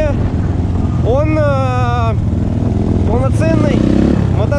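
A BSE Z3 enduro motorcycle engine revs while riding, loud and close with wind buffeting, its pitch sweeping up and down in two bursts as the rider shifts, and someone talks over it.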